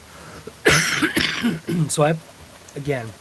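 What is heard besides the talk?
coughing and throat clearing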